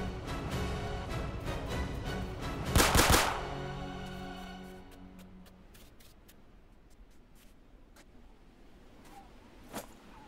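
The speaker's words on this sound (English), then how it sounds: "I heard gunshots by my base" Gunfire in the survival video game Fallen Survival, with a rapid burst of automatic shots followed by scattered single cracks fading off and one sharper shot near the end.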